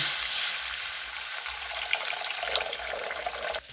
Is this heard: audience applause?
no